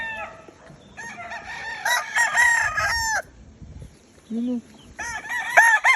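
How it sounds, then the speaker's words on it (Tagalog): Roosters crowing loudly and repeatedly at close range in a gamecock yard, several long calls overlapping with short gaps between bursts, with brief casual talk mixed in. "Ito mga manok."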